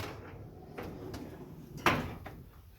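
A cabinet door is handled in a workshop beside a compressor's on/off switch and regulator, giving one sharp knock near the middle, a few softer bumps around it, and a low steady hum underneath.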